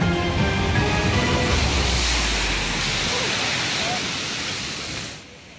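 Storm surge waves pound the shore at Virac, Catanduanes, in a loud, unbroken roar mixed with wind buffeting that fades slightly toward the end.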